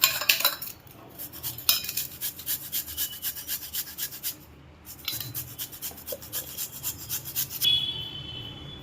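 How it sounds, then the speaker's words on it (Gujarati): Ginger and green chillies rubbed together over a metal grater, giving steady rhythmic rasping strokes up close with short pauses between bursts, no voices. "જાદુને પણ આપણે મરચાં ભેગું છીણી નાખશું"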